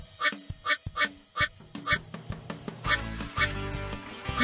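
A run of rhythmic cartoon duck quacks in a Bubble Guppies and Paw Patrol kids' water park game, about eight evenly spaced quacks over a bouncy musical backing that grows fuller partway through.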